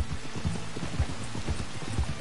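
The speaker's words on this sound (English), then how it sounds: "Raining out." Rain falls steadily in Red Dead Redemption 2, an even wash of drops with soft low thumps scattered through it, moderately quiet and with no talking.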